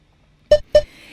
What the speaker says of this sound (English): When you hear those beeps, you'll be up on straight arms.